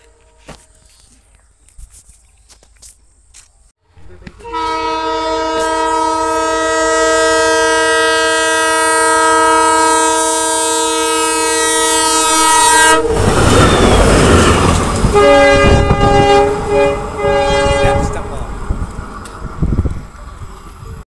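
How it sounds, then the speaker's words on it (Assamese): A train engine passes through Bebejia railway station on a foggy morning, a long loud horn blast over rumbling followed by heavy clattering wheels and a second horn. "তো এইমাত্ৰ ইঞ্জিনটো গৈছিল আৰু ট্ৰেইনখন আহি আছে এতিয়া"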